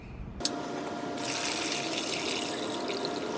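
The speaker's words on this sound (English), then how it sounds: "Let's fill it up with some water." Water pours steadily into the tray of a Kobalt 10-inch wet tile saw, a continuous close rushing splash that starts abruptly after a brief quiet moment and grows fuller partway through.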